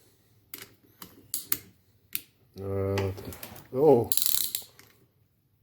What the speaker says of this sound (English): let's spin this engine over, show you how much compression this has